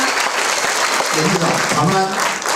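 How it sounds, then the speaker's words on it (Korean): Audience applause at a party members' rally in a community center hall, continuous clapping throughout with voices talking over it. "여러분 큰 박수 한번 더 부탁드리겠습니다."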